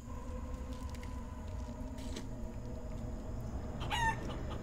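A rooster crows in Guacamelee! 2, a single call rising near the end over steady game background noise, fairly close and clear.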